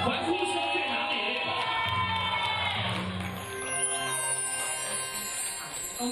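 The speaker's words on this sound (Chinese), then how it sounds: "欢呼声在哪里？" An audience at the 52nd Golden Bell Awards for radio cheers and shouts together in a loud, sustained burst of many voices that tapers slightly toward the end.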